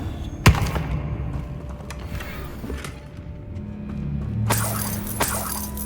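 The Confringo blasting spell in the Hogwarts Legacy video game, a sharp burst and crack near the start followed by rumbling game ambience, with a second bright blast and crackle toward the end.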